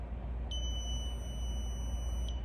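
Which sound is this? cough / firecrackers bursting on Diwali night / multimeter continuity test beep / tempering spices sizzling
multimeter continuity test beep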